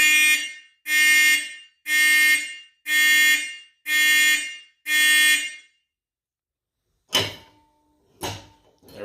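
A Faraday 5450 fire alarm on a homemade back box, wired to a vintage Simplex system, blares six loud, evenly spaced horn blasts at close range, then falls silent before a few clunks and knocks of handling follow.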